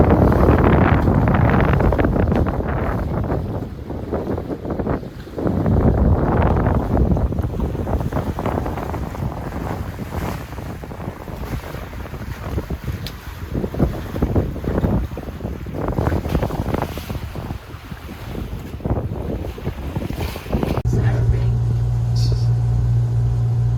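A small sailboat moves through open water off Miami, with heavy wind buffeting the microphone, water rushing along the hull and occasional voices over the steady gusty roar.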